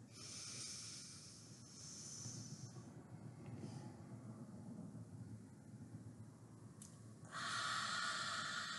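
Quiet, slow breathing out during a pranayama exercise: a soft, steady airy hiss that runs for several seconds, with a louder, brighter rush of breath near the end.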